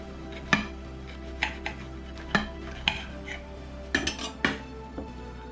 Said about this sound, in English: Let's get that sliced open.